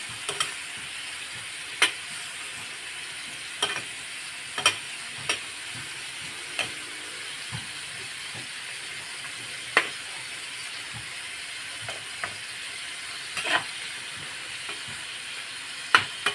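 Chicken for pininyahang manok (pineapple chicken) sizzles and fries over a strong flame, a constant hiss broken by scattered pops and stirring clatters, close by.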